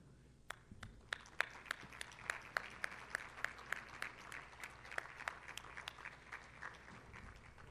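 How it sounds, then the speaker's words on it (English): Scattered, fairly faint applause from a Chamber of Commerce luncheon audience honoring chamber ambassadors, with distinct separate claps building then thinning out, heard from a distance in a room. "If they could all stand up so we can give them a round of applause."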